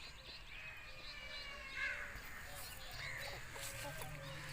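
An aseel hen clucks softly in a backyard coop, faint repeated calls over a low noisy background.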